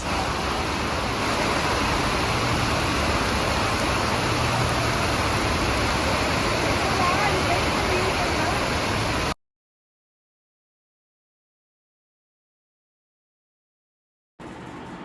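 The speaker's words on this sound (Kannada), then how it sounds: "ನಾವು ಊಟ ಮುಗಿಸಿ ಬರೋಷ್ಟೊತ್ತಿಗೆ ಮಳೆ ಜೋರಾಗಿ ಶುರು ಆಗಿಬಿಟ್ಟಿತ್ತು" Heavy rain falling in Tirupati, a dense continuous roar that cuts off abruptly into silence and then briefly returns.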